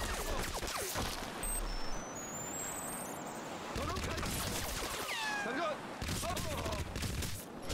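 Rapid bursts of SCAR assault rifle fire in the shooter Crysis, clattering loudly in several volleys with brief pauses, mixed with game ambience and impact noise.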